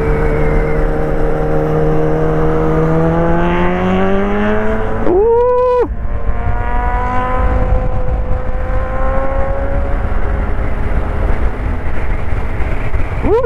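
A Moda Sporter S 250 scooter revs hard on a mountain road up to Genting Highlands, its engine note climbing steadily, then a rev and shift around the middle before building again, loud and close under riding wind.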